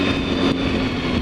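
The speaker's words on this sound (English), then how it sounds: "Let's try the biffer again without the clutch." A BMW S1000RR motorcycle engine roars loud and close at steady revs, with a brief dip as a clutchless gear shift goes through before the drone carries on.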